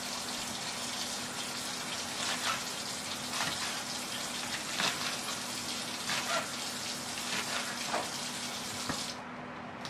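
Tap water runs steadily into a sink while a scallion is rinsed, a close, continuous hissing splash with small irregular patters, cutting off near the end.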